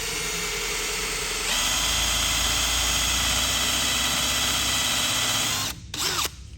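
A power drill runs an auger bit in reverse against plywood, a loud steady motor whine that steps up in pitch after about a second and a half, then cuts out briefly near the end.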